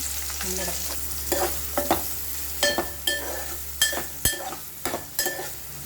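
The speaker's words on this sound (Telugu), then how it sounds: "ఇప్పుడు ఈ ఆయిల్లో ఆనియన్ పీసెస్ అయితే వేసుకోవాలి" Onion pieces frying in hot oil, a continuous low sizzle broken by repeated sharp clinks and scrapes of a utensil stirring the pan, close up with no voices.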